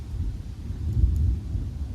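Thunder rumbling outdoors during a storm, a low, heavy rolling rumble that swells in the middle and lasts throughout, with no voices.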